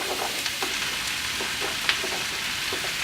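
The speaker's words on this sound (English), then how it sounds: "Saute the eggplant and the zucchini for a couple of minutes until like they are softened" Zucchini and eggplant sauteing in olive oil in a pan, giving a steady low sizzle with faint crackles and an occasional sharper pop, with no one speaking.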